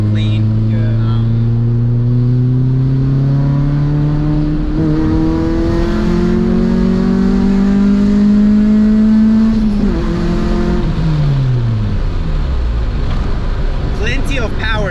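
A 1997 Honda Civic hatchback's engine and exhaust rev up and down in long sweeps, loud and close, with a steady droning tone, while someone talks over it.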